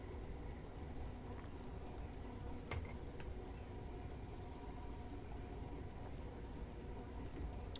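Class 455 electric multiple unit train in Train Simulator on the South London network, a quiet steady running hum and rumble with occasional faint ticks and clicks throughout.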